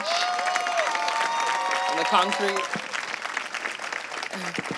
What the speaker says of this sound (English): if we can just give everybody a round of applause on the stage